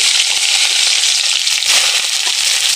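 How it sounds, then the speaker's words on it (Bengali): Chopped onions fry hard in hot oil, a loud, dense, continuous sizzle and crackle that runs steadily throughout, close and with no talking. "তেল ভালো করে গরম হয়ে গেছে। এখন আমি দিয়ে দেবো কেটে রাখা পেঁয়াজ কুচিগুলি"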